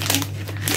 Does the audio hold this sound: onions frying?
no